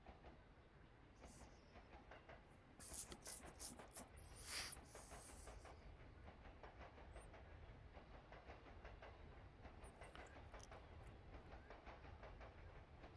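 A train in the railway simulation game Nimby Rails pulls into a station in Tokyo, giving a steady low rumble with rail clatter and a few brief louder bursts near the middle.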